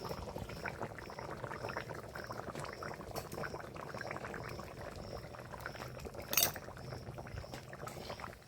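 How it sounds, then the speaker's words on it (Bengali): A pot of curry bubbles at a steady, low simmer, with continuous soft gurgling and a brief clink partway through. "বক করে ফুটছে ঢাকা খুলে নিয়েছি"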